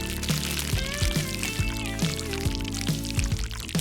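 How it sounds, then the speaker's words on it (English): Thick mixture of white glue and red dye poured carefully into a glove, a steady wet pour heard close over background music with a regular beat. "Pour it into the glove."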